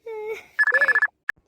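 Phone ringtone for an incoming call, a loud close electronic melody of rising tones followed by a quick run of pulsing beeps and one short final blip.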